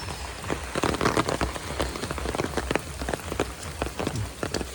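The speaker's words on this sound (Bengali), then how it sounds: "এই যে বৃষ্টি পড়ছে এখন কাদা মাটিগুলি একদম ধুয়ে গেছে।" Heavy monsoon rain in Bangladesh pours down steadily, a dense close patter of drops striking surfaces with a low rumble underneath and no voices.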